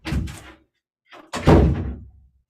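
A door thuds shut as someone runs out, giving a couple of short, close knocks and a heavier slam about a second later.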